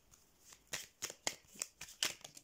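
Belline oracle cards are shuffled by hand for a reading, giving a quick series of soft riffling flicks and taps, close and fairly quiet, with no voice.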